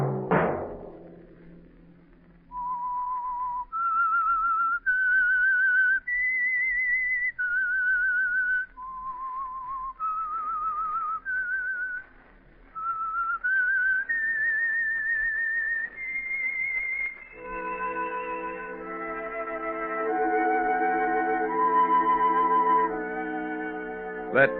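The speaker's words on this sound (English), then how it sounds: "Let that whistle be your signal for the Signal Oil program, The Whistler" A lone signature whistle from The Whistler radio show traces a clear melodic tune of held, stepping notes, then gives way to orchestral music underneath near the end.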